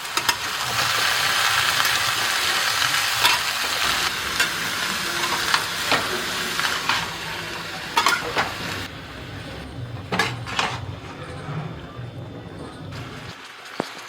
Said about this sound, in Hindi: यहीं पे चना भी डाल देंगे और इसे 4-5 मिनट भूनेंगे तेज आंच पे